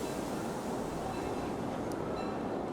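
Inside a moving Disneyland Railroad train carriage, a steady, even rumble of the ride continues throughout at moderate level, with no clear voices.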